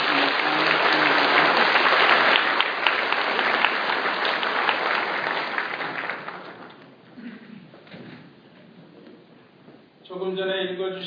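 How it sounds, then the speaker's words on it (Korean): A church congregation applauds in celebration of newly blessed children, a loud, dense round of clapping that gradually thins and fades over several seconds before a tonal voice or sound rises near the end. "축하의 박수 한번 해주시면"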